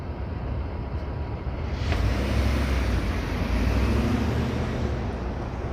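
Steady city traffic rumbling through an industrial stretch near Queensborough Plaza in Long Island City, Queens, a continuous broadband wash of passing cars with a slight swell midway, no voices.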